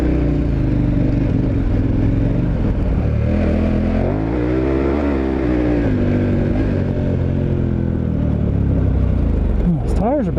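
A dual sport motorcycle on Mitas E07+ adventure tires rides over rocks, its engine droning loud and close with shifting revs and a rough clattering undertone throughout.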